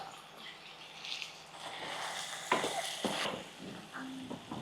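Potatoes frying with onions and green chillies in a pan for a South Indian aloo fry give a soft, steady sizzle with a few clinks of stirring. Faint kitchen sounds run underneath and no one speaks.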